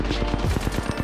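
Rapid Alternator submachine-gun fire in an Apex Legends firefight, a fast steady stream of loud close shots lasting about a second with no pauses.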